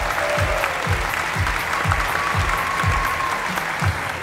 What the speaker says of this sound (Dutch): Dames en heren, een warm applaus voor regisseur Jan Verheijen en zijn vrouw Lien Willaert.